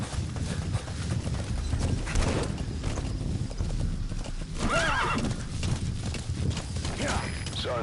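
A horse in the video game Metal Gear Solid V gallops with rapid, loud clip-clop hoofbeats, then gives a clear neigh midway before its hooves carry on to the end.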